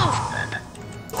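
A frog croaks in the Harry Potter and the Philosopher's Stone video game, a short, loud, raspy call standing alone over faint game background noise.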